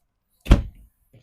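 A glass pantry door in a 2026 Entegra Odyssey 29V motorhome gives one short, solid thunk as it moves, followed by a faint rattle and then quiet.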